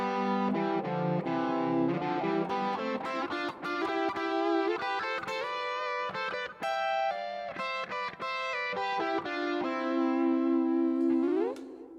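Electric guitar through a Kemper profiler's harmonic pitch shifter set to C major, adding a major-third harmony that follows a fast, busy melodic run with lightly distorted, echoing tone, played alone for about twelve seconds.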